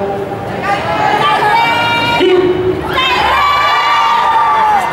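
A convention audience cheers and shouts loudly and continuously, with high-pitched screams and whoops rising over the roar of the crowd. A voice speaks over the noise.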